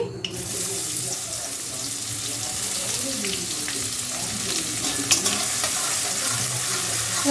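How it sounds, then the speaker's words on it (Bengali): Chopped onion hitting hot white oil already tempered with bay leaf and dried red chillies, giving a steady dense sizzle with scattered crackles and faint stirring scrapes, close and continuous with no talk. "এবার এর মধ্যে দিয়ে দিচ্ছে পেঁয়াজ কুচি"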